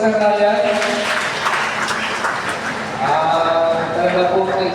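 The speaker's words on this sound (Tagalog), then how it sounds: "Isa pa po palakpak para kay Sir Ryan." Crowd applause for Sir Ryan at a morning gathering, a lively burst of clapping that swells again after a brief dip, mixed with a voice speaking over it.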